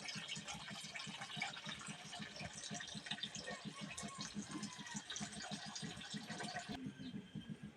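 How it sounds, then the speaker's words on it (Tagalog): Water pours steadily into a cooking pot, to be boiled for fish, with a bubbling, splashing gush, fairly quiet, continuing for several seconds. "Lagyan pa na guys ng tubig."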